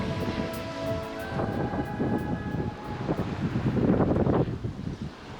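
Steady wind roars across the open water as a dinghy runs dead downwind in about 15 to 16 knots of breeze near Greenland, a continuous gusty rush with low buffeting that swells louder toward the end, no voices.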